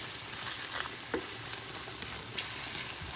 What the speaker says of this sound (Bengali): এখন মশলাটাকে ভালোভাবে কষিয়ে নিতে হবে।